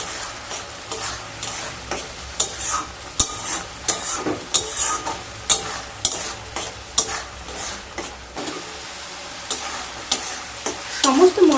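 Ground spices and puréed tomato sizzling in a pan for potol chingri, stirred with a steady rhythm of scraping strokes, roughly one per second, over continuous close frying noise.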